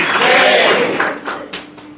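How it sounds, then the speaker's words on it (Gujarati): An audience at a Hanuman Jayanti celebration claps loudly to welcome a young girl named Janvi as she comes up to recite the Hanuman Chalisa; a short, dense burst of applause that thins out within two seconds. "જાનવી, તાળીઓથી વધાવી લઈએ"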